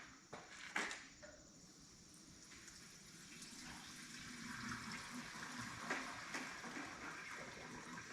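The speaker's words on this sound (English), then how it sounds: "we're just going to dump the rest of this fuel over here." Fuel poured from a Toyota/Lexus 4x4 truck or SUV fuel tank into an oil drain pan, a steady faint splashing gush with a short louder burst near the start.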